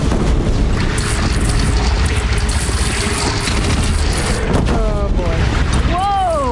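Explosion as a bridge is shot down in Horizon Zero Dawn, a heavy rolling boom and crumbling rumble that sustains loudly for several seconds, with a voice exclaiming near the end.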